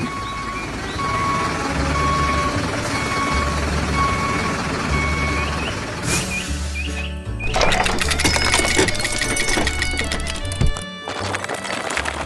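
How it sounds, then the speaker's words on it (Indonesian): A green truck hauling big logs on a trailer rolls steadily along through a green forest, its engine droning low and constant with beeping and rattling on top that grows busier toward the end. "Truk ini sedang bergerak dengan tenang dan nyaman."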